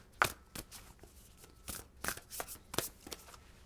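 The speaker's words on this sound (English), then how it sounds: "let's shuffle the cards" Tarot cards being shuffled by hand in short, crisp riffling bursts with pauses between, fairly close and moderately quiet, with no talking.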